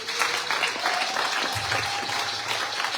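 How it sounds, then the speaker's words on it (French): A church congregation claps, dense continuous applause close by filling the whole moment, with a low voice surfacing briefly partway through. "Applaudissez le roi des rois."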